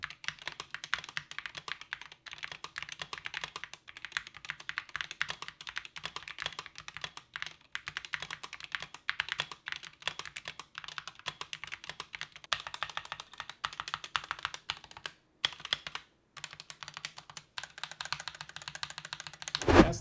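Continuous rapid clacking of a SteelSeries Apex Pro TKL 2023 mechanical keyboard being typed on, close and crisp, with brief pauses and no voices.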